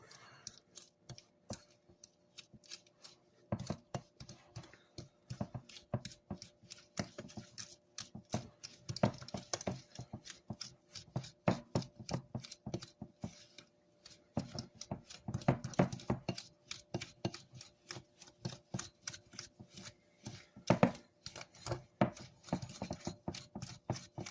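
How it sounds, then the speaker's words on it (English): A fork taps and scrapes in a bowl as sugar and butter are creamed together, with quick irregular close clicks running steadily and fairly faintly throughout, without talk. "cream together our sugar and our butter. And I'm just going to use a fork."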